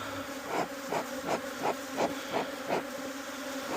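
Honey bees buzz at an open hive in a dense, continuous drone with a gently pulsing rhythm, close by and with no talking.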